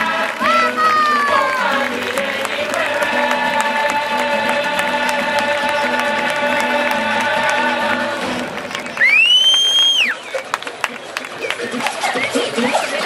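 Carnival audience at the Maspalomas 2013 queen gala applauding a candidate, loud sustained clapping and cheering from a large crowd, with music and a voice over a loudspeaker.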